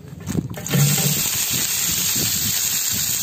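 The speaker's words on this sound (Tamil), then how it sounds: "நறுக்கி வச்சிருக்க வெங்காயத்தை சேர்த்துக்கலாம்." Steady, loud sizzling of chopped onions frying in hot oil in a large pot for fish biryani, starting after a brief clatter and continuing without a break.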